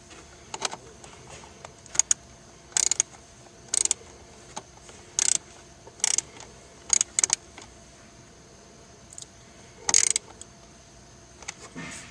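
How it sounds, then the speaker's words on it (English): A 1/2-inch ratchet tightening bolts on a blower, short metallic clicking bursts coming in irregular spurts with quiet gaps between, fairly close against a low background hum. "now you can tighten them with the 1/2-inch ratchet"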